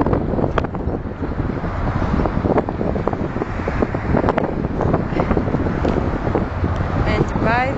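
Steady wind buffeting the microphone outdoors in a riverside park, a constant rushing roar with scattered gusts and some faint voices underneath.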